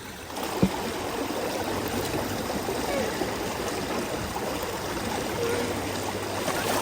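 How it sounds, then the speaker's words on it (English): Gold panning in a Connecticut river, a steady rushing wash of flowing water with soft swishing from the gold pan, continuous and close, with one brief knock near the start. "There's not much material left in this pan, so I'm just gonna pan that."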